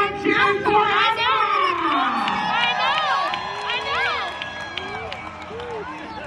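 Crowd at a monster truck show cheers and shouts loudly, a thick roar of many voices with high excited yells and children's shrieks that gradually eases.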